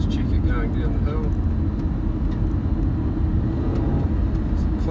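A 2007 Hyundai Tucson GLS rolls down a hill, heard from inside as a steady, dense rumble of engine and road noise that holds even throughout.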